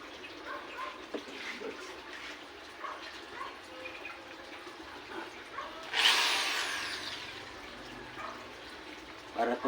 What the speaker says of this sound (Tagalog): Kailangan mayroon kang electric drill